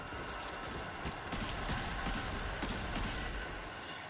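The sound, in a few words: horse hooves clip-clopping in a video game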